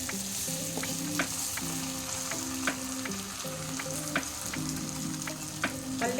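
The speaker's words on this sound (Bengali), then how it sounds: "এবার আমি যেটা করব, এই চালগুলোকে ভেজে নেব" Raw rice grains already mixed with salt and turmeric fry in a hot pan for yellow pulao, giving a steady close sizzle broken by regular scraping stir clicks over a soft, sustained melodic background.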